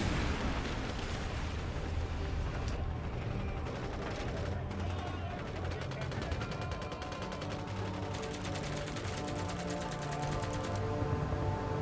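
Dense, continuous rumbling battle noise in a war scene, an air-to-ground missile from an A-10 striking a T-72 battle tank, with rapid crackling gunfire and booming blasts layered throughout, loud and unbroken.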